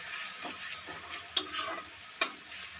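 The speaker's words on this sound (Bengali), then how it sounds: "পেঁয়াজগুলো আমার ভাজা হয়ে গেছে।" Onions fry in a pan with a steady close hiss of sizzling, broken by a few sharp scraping stirs of a spatula. No voices are heard.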